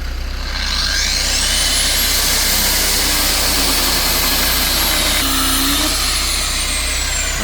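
Land Rover Discovery 1 engine running continuously at close range, a loud steady drone with a faint whine that rises and falls, and no voices over it.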